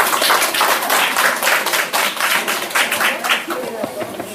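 An audience at the end of a lecture breaks into sustained, loud applause, with many hands clapping densely and evenly throughout.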